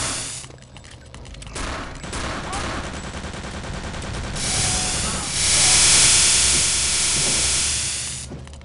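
Heavy weapon fire in the shooter game Return to Castle Wolfenstein, a loud sustained burst of booming shots with hissing blasts swelling and fading, dense and continuous with no talk over it.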